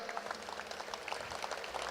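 Audience applause at a political gathering, a steady wash of scattered clapping throughout, moderately loud and continuous with no distinct voices standing out.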